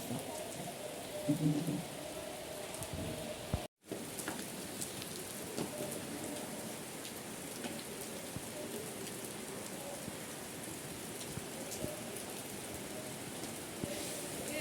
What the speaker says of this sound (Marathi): पावसाने घातलाय धुमाकूळ कोकणा जगा केवढा पडतोय आज पुऱ्या दिवसाचा पाऊस